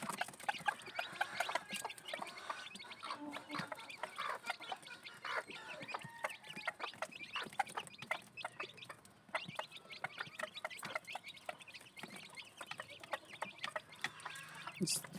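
Sweater breed hen with her eleven newly hatched chicks, soft repeated clucking mixed with high chick peeps, close and continuous, with someone talking faintly in the background.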